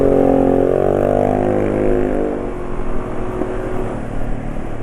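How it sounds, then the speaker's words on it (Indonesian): A Honda automatic scooter with a loud, throaty racing exhaust revs up, then settles into a rough, rumbling idle. "Yang tadi itu knalpot racing banter"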